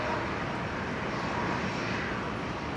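An aircraft landing on runway 01 right at Brisbane airport gives a steady, loud, broad engine roar that holds evenly throughout, with no voices over it.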